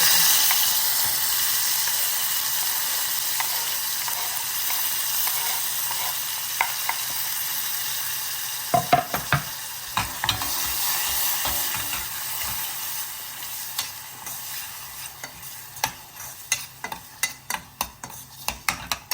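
Chopped tomatoes with chili powder, turmeric and asafoetida sizzle in hot oil for a Gujarati dal tempering, with a steady hiss throughout and a run of sharp spoon scrapes and clacks against the pan building toward the end.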